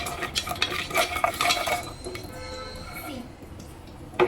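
Peanuts dry-roasting and being stirred in a pan, with a steady scraping and light rattling that is busier in the first half and thins out later, heard fairly close.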